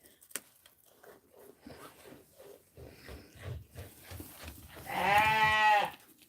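Pet sheep eating a biscuit indoors, with quiet crunching and chewing, then a loud close bleat near the end and no speech.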